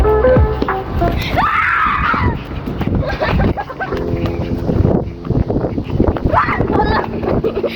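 Shrill screams ring out twice, rising and sharp, during a lively game of freeze tag. People talk loudly over a noisy, windy background.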